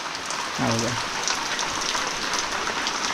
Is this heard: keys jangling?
no